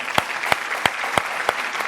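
Audience applause on a television show, a steady patter of clapping with several sharper individual claps standing out in a regular rhythm, close and moderately loud.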